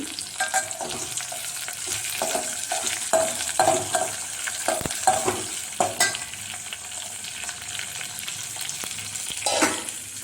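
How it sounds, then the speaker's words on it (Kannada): Sizzling in a pan while cooking sprouted horse gram and drumstick curry, a continuous bright fry with frequent stirring scrapes and taps of a spatula, close up and without talking. "ಇದು ಸ್ವಲ್ಪ ಚೆನ್ನಾಗಿ ಫ್ರೈ ಆಗಲಿ."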